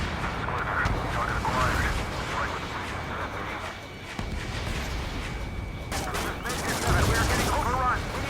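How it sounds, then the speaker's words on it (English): A missile launch amid aerial combat in Ace Combat 7, played on hard mode: continuous roaring engine noise and rumbling blasts fill the scene, with radio voices talking over the din. "Roger. Missile away."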